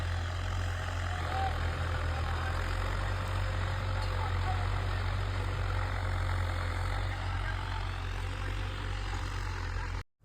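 A farm tractor idling after pulling in for a load, a steady low diesel rumble with a constant mechanical hum, close and unbroken until it cuts off abruptly at the end.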